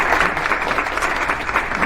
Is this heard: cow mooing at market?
no